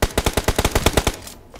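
Rapid automatic M4 rifle fire in a video game, about a dozen sharp evenly spaced shots in a fast burst, loud and close, ending abruptly with a brief tail.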